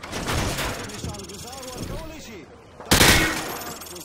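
A weapon fires through light cover on a training range in Call of Duty: Modern Warfare 2, with a voice talking first and then a single loud, sharp shot near the end, close and ringing.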